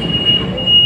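An LRT Line 1 train in Manila runs on its rails toward Dr. Santos, a loud close rumble with a steady high wheel squeal in one sustained stretch, heard from on board.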